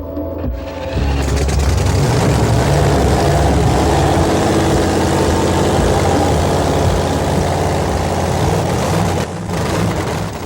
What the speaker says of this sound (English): The fire up, the nitro-fueled engine comes to life